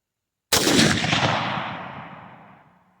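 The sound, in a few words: gunshots from a BCA bolt action rifle upper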